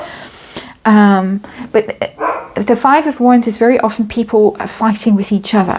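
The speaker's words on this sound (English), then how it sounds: "it's dog barking time of day." Dogs bark in the background, a sharp bark early on then further yips mixed in, while a person talks steadily over them close to the microphone.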